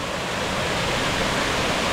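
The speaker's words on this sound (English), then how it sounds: "Here's the lower falls" Steady, loud rush of the lower falls in Royal National Park, a continuous broadband roar of falling water heard close with no voices.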